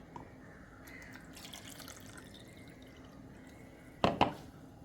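Water is poured into a mixer-grinder jar already holding thick curd. After a quiet stretch, a short, close double splash of pouring liquid sounds near the end.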